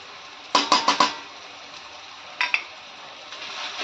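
A spoon clatters against a pan while turmeric, onion-garlic masala and red chili powder are stirred: four quick metallic knocks, a pause, then two more scrapes over a faint background hiss.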